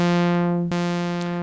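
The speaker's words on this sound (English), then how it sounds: "So for example, the inverted saw wave sounds like this." An Omnisphere 2 synth holds a steady bright, buzzy tone while an inverted saw-wave LFO sweeps the filter cutoff, giving one abrupt reset in the brightness midway through the short sustained note.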